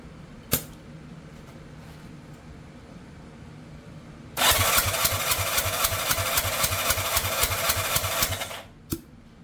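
Cranking of a 1987 Yamaha Radian motorcycle engine during a compression check: a steady rapid pulsing chug lasting about four seconds, loud and close, with a sharp click before and after.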